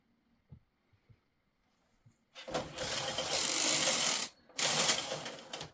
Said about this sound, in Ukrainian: Ажурна каретка видвинула голки.